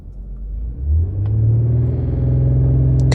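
An Infiniti Q60 Red Sport engine accelerates with a loud, close rumble that climbs steadily in pitch, with a brief dip where a gear shift comes before the engine pulls hard again.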